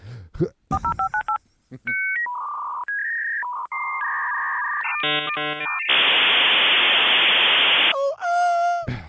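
A voice imitating a dial-up modem connecting: a burst of dialing beeps, a run of shifting electronic tones and chirps, then a long loud hissing static roar and a final warble, all close and loud.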